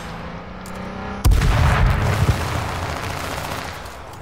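Hellfire explosive rounds fired in the battle royale game H1Z1: a quiet engine hum, then a sudden loud blast with a rumbling, crackling burst of shots that fades away.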